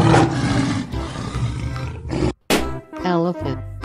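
A lion roars loudly in an animal video game, a single sustained growling roar over game music, followed by a brief break and then other cartoonish animal calls.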